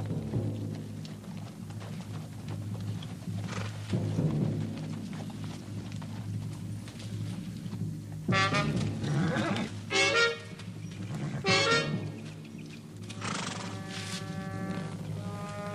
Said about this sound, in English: Whose horse is that?